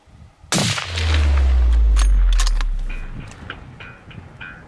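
A single loud rifle shot fired while hunting moose in the rut, a sharp blast followed by a long booming low rumble that fades over several seconds, then faint clicks and rustles.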